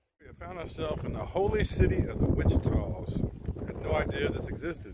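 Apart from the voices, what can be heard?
wind blowing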